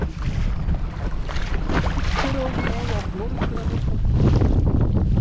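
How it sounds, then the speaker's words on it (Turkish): Strong wind buffets the microphone over steady rushing water and slapping waves on open water from a small boat while fishing, with voices faintly mixed in throughout. "Rüzgar dalga çok."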